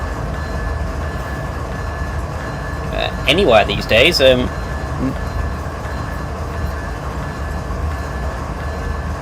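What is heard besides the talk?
freight train running, from video game Train Sim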